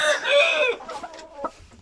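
A rooster gives a loud, close, harmonic call followed by a couple of softer clucks.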